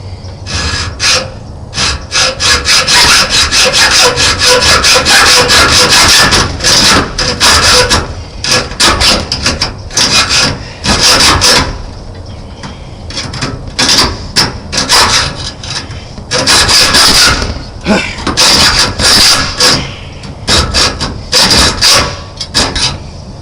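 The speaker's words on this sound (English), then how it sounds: "Once I get that one cut through, I'll be halfway done with the metal cutting. The hacksaw blades come in quite handy." A hacksaw cuts through metal for an aquaponics build, loud rasping strokes repeating in rapid rhythmic runs with brief pauses between sets, close up and alone.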